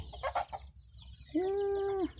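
Fighting cocks kept for sale cluck in a few short bursts, followed by a longer drawn-out crowing call, fairly close and alone.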